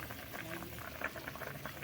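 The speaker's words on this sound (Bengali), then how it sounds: "ঝোলটা বেশ ফুটতে শুরু করে দিয়েছে।" A pot of hilsa fish curry bubbles and simmers steadily, soft popping and gurgling close by, with no voices.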